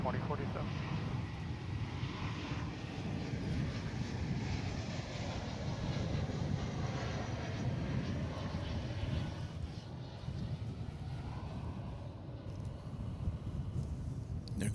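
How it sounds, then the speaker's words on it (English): An American Airlines Dreamliner jet passes at Dallas/Fort Worth airport, a steady broad roar of engines that holds throughout at a distance, with a person talking over it. "There goes that American Dreamliner."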